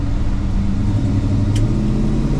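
A 1965 Chevrolet Malibu Chevelle with a big-block 396 V8 drives along, its engine a loud, steady low rumble heard from inside the car, with no talk over it.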